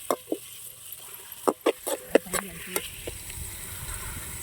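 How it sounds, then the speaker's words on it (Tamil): Onions frying until golden in a pan for pepper chicken, with soft sizzling broken by a series of sharp scraping and clinking stirs, close by and fairly quiet. "நல்லா பொன்னிறமா வதக்கிக்கணுங்க வெங்காயம்."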